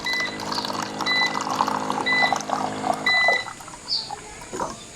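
Hot water pouring from a coin-operated vending water dispenser, a short liquid flow with several electronic beeps from the machine, close and fairly loud.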